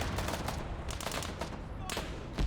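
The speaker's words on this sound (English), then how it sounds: "so this Maz is shooting at him" Gunfire in a tank video game: rapid, repeated shots crackle in a steady burst, moderately close but fairly quiet overall, with a voice speaking faintly over it.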